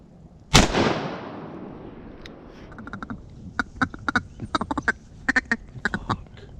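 Ducks calling in flooded timber during a duck hunt, a run of short sharp quacks scattered over a few seconds after a single loud blast and its fading echo.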